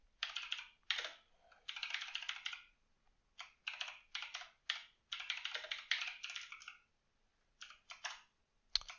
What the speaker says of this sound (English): I looked down at the keyboard and I was looking at my fingers while I was typing